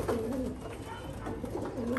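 A pigeon cooing in a loft, with soft low throaty coos repeating close by against a quiet room background.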